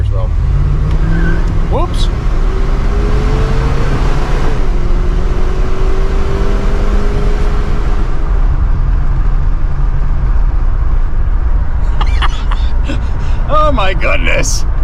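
A 1972 Cadillac Eldorado with a 500 engine revs and pulls hard, a steady loud low drone with a rising tone, while voices talk and exclaim over it.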